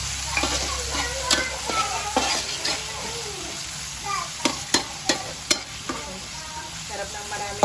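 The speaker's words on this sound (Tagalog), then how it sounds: "Prito muna natin ang sibuyas at kamatis." Onion and tomato frying in a pan, a continuous sizzle broken by loud clattering stirs and utensil knocks against the pan, growing sharper toward the end.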